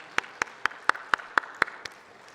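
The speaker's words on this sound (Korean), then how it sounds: "영광의 박수" Steady clapping from a church congregation during a Sunday worship service, about eight evenly spaced sharp claps over two seconds, fairly close and clear with no talking.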